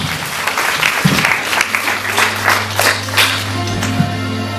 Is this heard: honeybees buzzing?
no